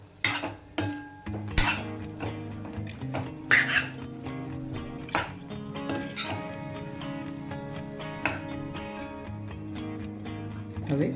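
A spoon stirs boiled sweet corn and spices in a metal pot, giving repeated scraping and sharp clinks against the sides at an irregular pace, close and fairly loud.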